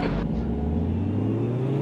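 Ferrari F40 engine in the racing game Automobilista 2, a brief steady drone of the car running at speed with a low rising engine note, heard alone.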